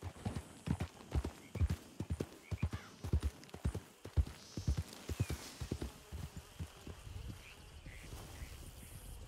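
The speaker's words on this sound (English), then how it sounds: "Horses, hear that?" Many horses trot in a role-play video game, a dense run of clip-clop hoofbeats with an occasional whinny, fairly close at first and thinning toward the end.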